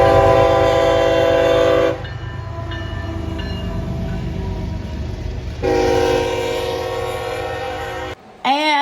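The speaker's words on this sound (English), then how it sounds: "all of a sudden we heard a GEVO horn" A GE GEVO locomotive sounds a loud, sustained horn chord that cuts off, then blows again a few seconds later while the train rumbles past close by. The horn stops abruptly at the end.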